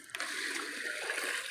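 Water poured from a vessel into a cooking pan while making biryani, a soft continuous splashing and trickling that starts abruptly and runs steadily at modest volume.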